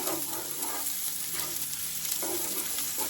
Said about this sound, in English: the ginger is going in, the onion is going in, then we're gonna stir this up some